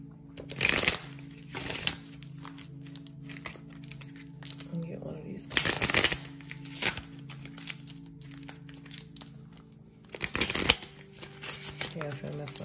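Tarot cards are handled and shuffled in quick riffling bursts, three main flurries with softer rustling between, close by, while a person talks over the handling.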